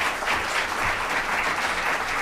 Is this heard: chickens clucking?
no